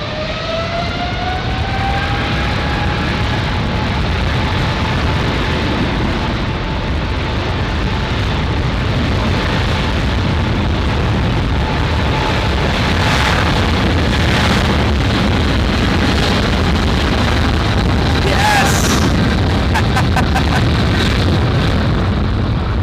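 Japan Airlines jet with two big GE90 engines taking off from LAX for Tokyo Haneda: a loud, sustained roar with a rising whine that holds steady and close for the whole stretch, with no voices.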